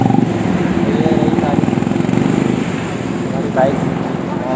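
A motorcycle engine runs with a steady low throb and a few revs, close and fairly loud, while people talk nearby over it.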